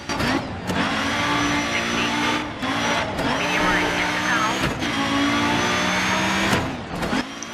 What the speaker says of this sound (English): just listen to this engine for a minute